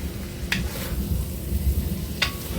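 Vegetarian fried rice cooks in a cast iron wok with a low, steady sizzle and two sharp scrapes of a utensil against the metal.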